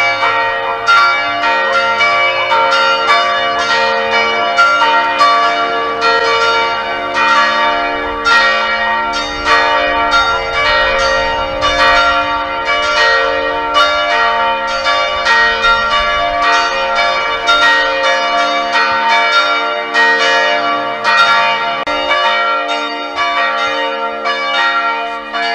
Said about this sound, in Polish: dzwony zabiły na jej cześć